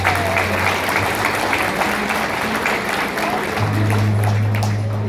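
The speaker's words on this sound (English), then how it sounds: "Applause to everybody here." A packed hall at a 90th anniversary church celebration for Maria Della Croce in Triggiano fills with steady, sustained audience applause, a continuous wash of clapping with a low musical drone underneath and no pauses.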